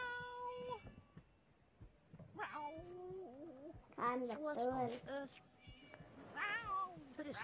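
Cartoonish cat meows from the Scary Teacher 3D game, several rising and falling calls that cut in and out. Children's voices talk over them throughout.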